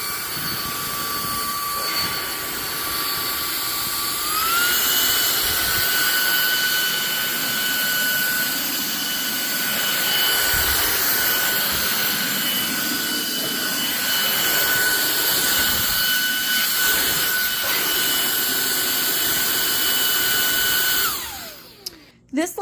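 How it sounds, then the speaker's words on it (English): A Nicebay cordless handheld vacuum runs on its low setting, a steady high-pitched motor whine with airy suction rushing, shifting pitch slightly early on, continuous and close until it switches off near the end. "This little vacuum cleaner is amazing. It is definitely high powered and high suction."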